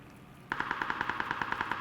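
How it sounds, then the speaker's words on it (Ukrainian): A rapid burst of automatic gunfire in the video game PUBG starts abruptly and rattles on in an even, fast rhythm, sounding slightly distant and synthetic. "Він стріляє по мені, я його не бачу."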